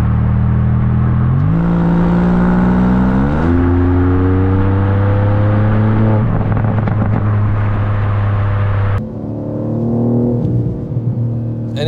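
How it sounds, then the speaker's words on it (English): Tuned 590 hp 2024 BMW M3 Touring with a 3-liter straight six pulls hard at full throttle, loud and close, its rising engine note climbing through several gearshifts, with a brief lull and renewed acceleration near the end. "And it sounds so amazing for a 3-liter straight six that's basically brand new, a 2024 car."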